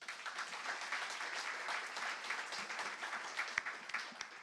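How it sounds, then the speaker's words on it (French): Faint, distant-sounding applause from an audience at a staged mock trial during a media event, scattered claps within a steady patter lasting a few seconds, no talking. "Je vous prie de bien vouloir les applaudir."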